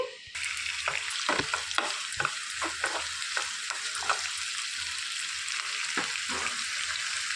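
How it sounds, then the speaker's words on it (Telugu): Chana dal and finely chopped onions fry in oil in a pan, a steady close sizzle punctuated by repeated sharp clinks and scrapes of a spoon stirring against the pan. "సన్నగా తరిగి పెట్టుకున్న ఉల్లిపాయలు వేసేసుకొని వేయించుకోవాలండి"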